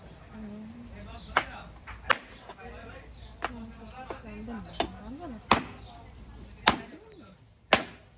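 Goat meat is chopped outdoors at a BBQ party: about eight sharp, loud cleaver strikes land at irregular intervals while people talk nearby.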